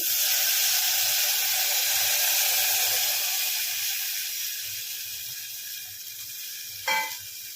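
Tamarind juice is poured into a hot pot of drumstick rasam, setting off a steady, bright hiss and sizzle that slowly eases, then ends with a short splash or clink near the end.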